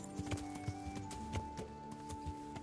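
Rhythmic clip-clop of horse hooves at a steady gait while riding in Kingdom Come: Deliverance, the even beats running close and clear over a quiet hum.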